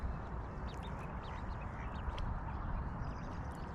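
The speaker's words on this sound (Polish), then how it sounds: "Kaczka i gęś. Małe kaczątka." Ducks and ducklings quack repeatedly at a distance over a steady, rumbling outdoor background at a carp-fishing spot in spring, the calls faint but frequent.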